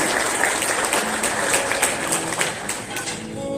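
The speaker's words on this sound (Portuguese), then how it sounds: "Então dá uma salva de palmas para ele, porque ele é digno." Applause from a church congregation during a sermon on Ephesians, a steady dense clapping that carries on for several seconds at close range, with no voices over it.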